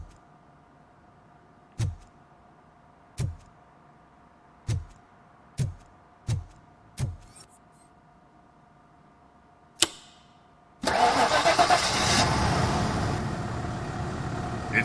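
In the video game Robocop Rogue City, a car engine is cranked with several sharp separate clicks and thumps, then catches and roars into a loud, steady run.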